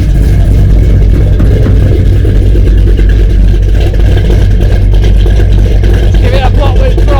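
A vehicle engine drones loud and close as the throttle is blipped, with a voice talking over it throughout.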